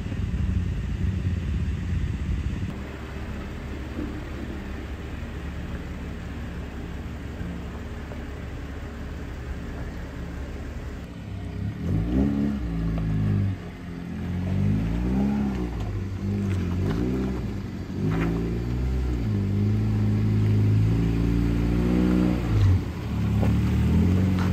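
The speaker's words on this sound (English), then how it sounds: "I think he's just put it in gear and letting it crawl up" A 4x4 crawling uphill in gear on a green lane, its engine a steady low drone that rises and pulses through changing revs, heard alone with no talk.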